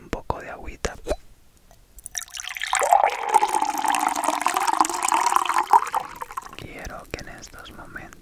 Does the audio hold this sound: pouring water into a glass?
yes